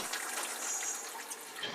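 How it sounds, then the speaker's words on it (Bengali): A glass of water being poured into simmering fish rezala gravy in a home kitchen, giving a soft, continuous splashing gush with no talking. "আমি এর মধ্যে অল্প পরিমাণে জল অ্যাড করব।"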